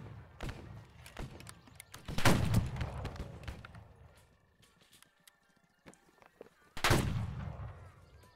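Musket volleys and cannon fire in a Civil War battle game: two heavy booming blasts several seconds apart, each with a rolling tail, amid scattered crackling musket shots and distant battle noise.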